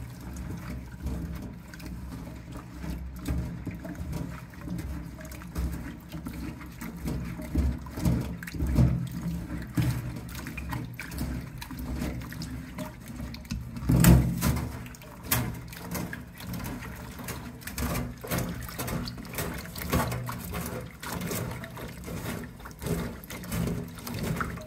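Water sloshes and swirls around freshly harvested edamame pods being rinsed in cold water, an uneven stream of splashing and gurgling with one louder splash midway.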